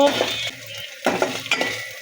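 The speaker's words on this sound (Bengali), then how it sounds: "আদা বাটা দিয়ে এখন একটু নেড়ে চেড়ে মিশিয়ে নেব 1 মিনিটের মতো" A spoon scrapes and stirs ginger paste in a pan in a few short bursts, with a faint sizzle underneath and no talking.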